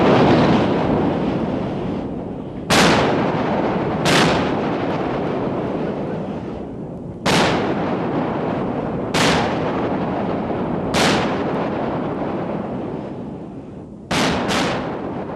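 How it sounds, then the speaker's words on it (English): Battleship 5-inch guns fire in a string of loud, sharp blasts, about seven shots at uneven intervals. Each blast rolls off into a long rumble over steady wind and sea noise. "There are also 5-inch guns, which supplement the firepower of the main gun turrets."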